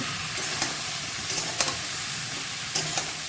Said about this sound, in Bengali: খুঁটি দিয়ে নেড়ে চেড়ে নেব স্বাদ মতো নুন দেব